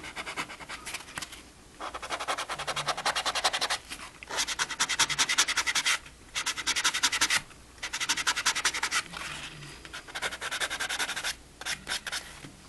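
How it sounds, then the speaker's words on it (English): Hand sanding across a wood finish during a spot repair, a raspy scratching rub repeated in several long bursts separated by short pauses, close and alone. "I'm just going to end up sanding through a little bit more."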